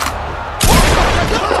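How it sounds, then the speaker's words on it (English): A tranquilizer gun fired at a wrestling show, one sudden loud blast that cuts in after a quieter stretch and hangs as a dense, booming wash to the end. "Kurt Angle deciding the best way to deal with Big Show is a tranquilizer gun"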